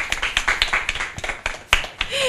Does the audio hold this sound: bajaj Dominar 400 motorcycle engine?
no